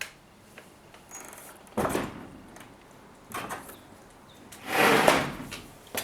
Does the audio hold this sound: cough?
no